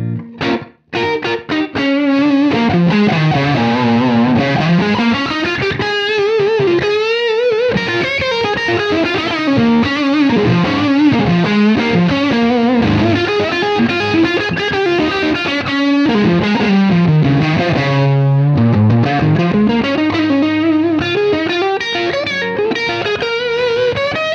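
An electric guitar plays a riff through a distorted Universal Audio amp plugin preset, loud and sustained with gliding bends and no talk.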